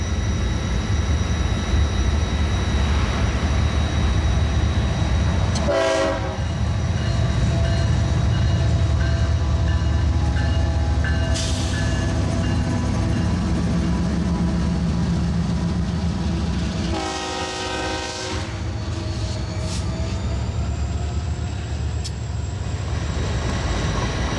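A long coal train rumbles steadily past, with two brief horn blasts sounding over the continuous rolling noise.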